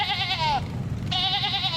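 Sheep bleating twice with a brief gap between, two clear wavering calls fairly close and moderately loud, with no voices.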